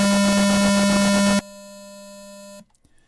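A Rife wave generator tone: a loud, steady harmonic drone with a strong low fundamental, which drops to a quieter sustained tone midway and then cuts off into near silence.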